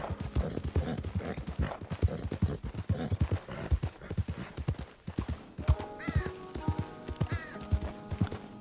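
A horse in Red Dead Redemption II gallops at full speed, its rapid, steady hoofbeats drumming close and loud throughout, with tonal, whinny-like sounds rising over the hooves in the later seconds.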